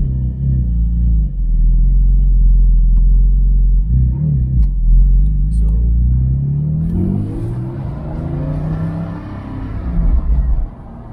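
A 2022 Porsche 718 Boxster Spyder's engine roars loud and close while driving, a deep rumbling drone that climbs in pitch through rising revs, then surges again as the throttle opens.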